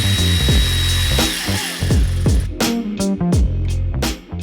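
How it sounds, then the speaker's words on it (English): A power tool works a T30 bolt loose from the throttle body pipe bracket on a Golf R, a loud close whirring motor in repeated bursts with ratcheting clicks between them. "I removed the first T30 bolt that is holding the pipe onto the frame with a bracket."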